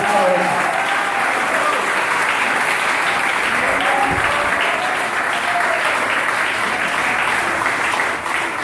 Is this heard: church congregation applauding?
yes